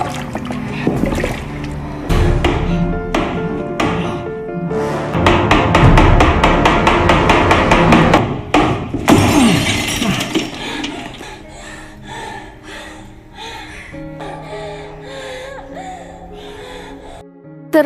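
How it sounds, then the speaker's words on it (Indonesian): A cooled stone bashed repeatedly against the glass pane of a sauna door, a run of sharp, loud, uneven impacts that gives way to quieter clattering and shuffling. "Setelah dirasa dingin ia gunakan batu tersebut untuk menjebol kaca di pintu."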